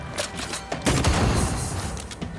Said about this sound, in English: I think I heard the sound of a gun.